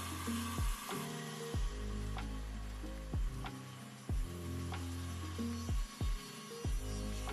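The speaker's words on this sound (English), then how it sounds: "I used a router to cut out the heart logo, and I used a jigsaw to finish the cuts" A jigsaw cuts through a wooden front panel for a photo booth box, a loud, steady buzzing drone broken by short pauses and sharp knocks as the blade stops and restarts, with no talking.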